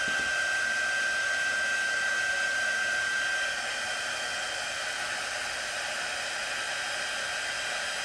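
A hair dryer blows continuously on craft material nearby, a loud steady whooshing roar with a faint whine that dips slightly partway through, with no talk.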